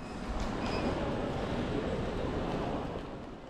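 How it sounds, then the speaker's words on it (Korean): A train on the Gyeongchun Line arrives at a station platform, giving a steady broadband rumble and rolling wheel noise that fades slightly toward the end, with faint high squeals. "도착 시간이 되자 지하철처럼 생긴 열차 한 대가 플랫폼으로"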